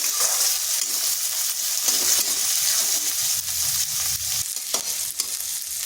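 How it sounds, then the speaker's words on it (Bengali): Chopped onion sizzles gently in a pan over low heat, a steady hiss with occasional stirring scrapes and light spatters, close by and without speech. "পেঁয়াজটা হালকা ভেজে নিচ্ছি"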